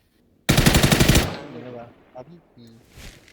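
Rapid automatic gunfire in the video game PUBG on the Vikendi map, a loud burst of close shots lasting under a second, followed by fainter scattered shots.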